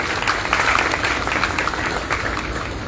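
Brief, dense audience applause at the opening of a new student batch at a free IT training centre in North Nazimabad, sustained and fairly loud throughout.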